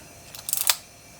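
A brief mechanical ratcheting click burst from a Canon Canonet camera's film advance lever being wound, close and crisp, lasting under half a second.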